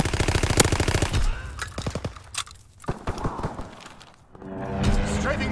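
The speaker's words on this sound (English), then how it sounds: "Call for a strafing run." Machine-gun fire from an aircraft strafing run in Call of Duty: WWII, with rapid loud bursts of rattling shots at the start and scattered heavier impacts after, under game noise and a voice.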